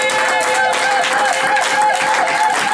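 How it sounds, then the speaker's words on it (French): A church congregation applauds loudly, a dense steady wash of many hands clapping throughout, with sustained tones and voices mixed in underneath. "L'église va applaudir très fort pour la gloire de Dieu"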